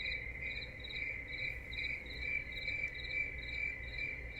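Looping frog sleep sound from a Dekala Arches smart alarm clock, a steady chorus of pulsing chirps that repeat in an even rhythm over a low background hum, heard alone.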